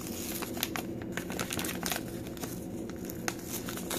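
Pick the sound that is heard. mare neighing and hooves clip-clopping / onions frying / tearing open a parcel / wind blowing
tearing open a parcel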